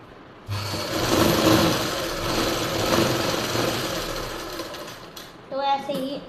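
A sewing machine stitches a seam on a baby frock, running in a steady, dense whir for several seconds close by, then stopping briefly before a short final burst.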